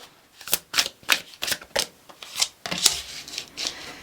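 Tarot cards are shuffled by hand in about ten quick, crisp riffling bursts, close and fairly quiet, with no talk over them.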